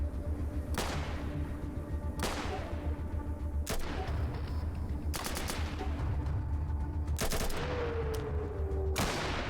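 Gunfire in the video game Atom RPG: a series of sharp, separate shotgun and rifle blasts, each trailing into a short echo, spaced a second or two apart over a steady rumbling background, with one brief whistling tone near the end.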